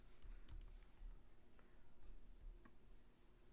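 Keystrokes on a computer keyboard while entering a SQL query, a quiet run of soft clicks in irregular bursts, close by and faint, with a few sharper taps standing out.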